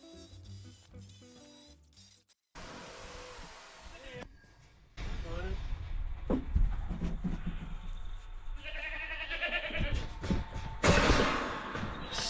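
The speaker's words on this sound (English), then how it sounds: "Stinking goat." A goat bleats in a rural homestead setting, its wavering calls rising out of loud, busy outdoor noise, with a human voice mixed in.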